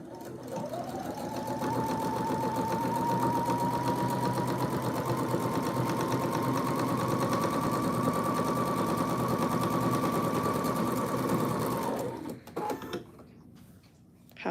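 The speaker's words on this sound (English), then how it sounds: "I'm going to see how loud it is with the sewing machine" A sewing machine runs steadily on a test run for about twelve seconds, a continuous even whir with a rising motor pitch, then stops, leaving faint handling noises.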